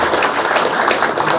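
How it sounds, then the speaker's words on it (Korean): Applause from a crowd at a political campaign office opening ceremony, a steady, dense clapping that stays loud and even throughout with no pauses. "전체적으로 한 박수를 한 부탁을 드립니다"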